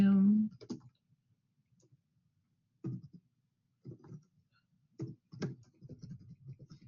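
Computer mouse clicks on a desktop, several short sharp taps spread out over a few seconds in a quiet room, some grouped in quick pairs, with a faint voice-like murmur at the start.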